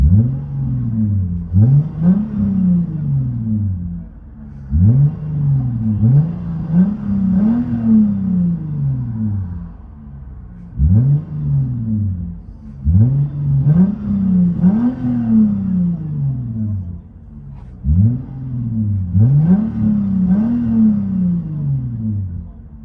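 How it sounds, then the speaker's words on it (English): Inside a 2011 Lexus IS 250 with a 2.5L V6 and a Vibrant resonator and muffler delete with 4-inch tips, the exhaust is revved repeatedly. Loud rising and falling blips come in rhythmic bursts over a steady droning idle. "Lexus IS 250 vibrant mid rear delete and 4-inch tips."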